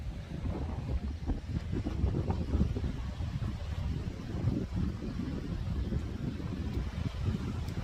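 Blustery wind at a beach near Sarina, Queensland, Australia, rumbles against the microphone in a constant low roar, rising and falling slightly, with no talking heard.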